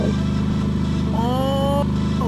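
Vehicle engine in the RV There Yet video game, a loud continuous droning rumble that climbs in pitch as it accelerates, heard up close with no talk.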